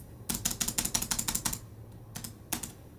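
Typing on the chiclet-style backlit keyboard of a Gigabyte A16 laptop: a rapid run of crisp, close key clicks for about a second, then a pause and a few scattered single keystrokes, quiet and alone.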